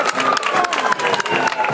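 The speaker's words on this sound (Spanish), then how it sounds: "brindamos este aplauso respetuoso a todo el personal de salud" A crowd gives respectful applause for health personnel at a memorial inauguration, a dense, steady clatter of many hands clapping close by, loud and continuous through the short moment with no voices standing out.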